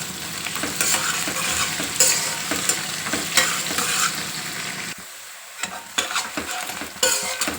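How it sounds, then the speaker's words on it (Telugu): Onions and green chillies fry in a pan while a spoon stirs through them, with a steady close sizzle and repeated scraping strokes. The sizzle drops briefly near the end and then resumes. "ఉల్లిపాయ మంచిగా వేగింది కదా."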